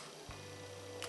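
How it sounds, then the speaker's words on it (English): One quiet mechanical click of a Canon PowerShot SX520 HS compact camera shutter sounds, then a faint second click a moment later, set against a low steady hum. "So let's hear the shutter sound."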